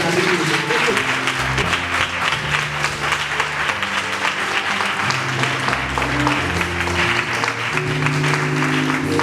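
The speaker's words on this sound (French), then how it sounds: "Acclamez pour lui." A church congregation breaks into sustained applause, dense and continuous clapping filling the space, with organ or keyboard chords sounding underneath throughout.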